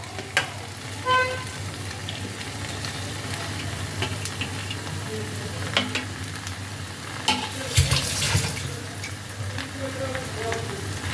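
Fried paneer and vegetables are stirred into a frying masala for navratan korma, with a steady close sizzle and intermittent scraping and clanking of a spoon against the pan, plus a louder rustling splash near the end.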